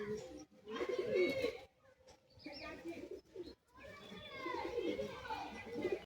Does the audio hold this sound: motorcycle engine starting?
no